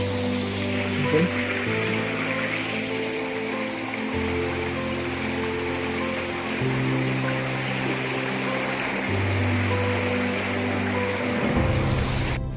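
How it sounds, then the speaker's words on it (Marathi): A cold river in the Konkan countryside rushes steadily as people wade across it, a loud continuous wash of flowing water with a low droning tone beneath. "ही नदी आहे ना आता आपल्याला भेटलेली"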